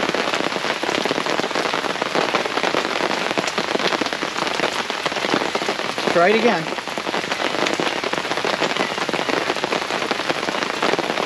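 Heavy rain pours down steadily at an outdoor airgun shooting spot, a loud continuous hiss of drops striking surfaces, with a brief voice speaking partway through.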